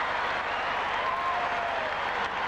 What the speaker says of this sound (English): the crowd loves it here at the Forum